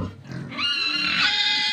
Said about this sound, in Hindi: अब सुअर भी काँव काँव कर रहा है